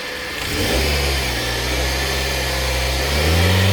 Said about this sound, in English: So let me accelerate the vehicle. I'll accelerate it manually